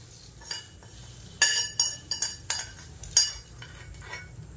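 A spoon scrapes and clinks against a bowl in a series of sharp metallic taps and scrapes while tempering is poured and mixed into ground egg chutney. No one speaks.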